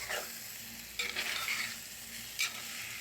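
Crushed papadam being stirred into a curry in a pan, with a soft steady sizzle broken by a few scraping stirs of a spoon, close up and without voices.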